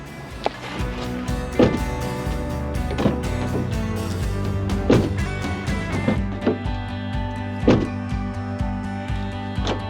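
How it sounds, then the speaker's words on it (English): Rear door of a Toyota Corolla with repaired locks, heard through a series of solid thunks and latch clunks over a steady low hum, close and fairly loud, with no speech. "I'm going to close the door"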